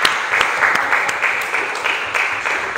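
Church congregation applauding loudly during a worship service, a steady wash of clapping throughout with a few sharper bursts, no voices standing out.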